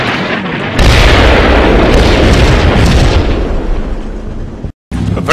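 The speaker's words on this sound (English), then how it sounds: "my artillery should start falling momentarily." 76mm HE artillery shells land in the WWII strategy game Combat Mission: a heavy booming blast opens a sustained rumbling roar of explosions that slowly tails off, then a brief dropout and renewed rumble.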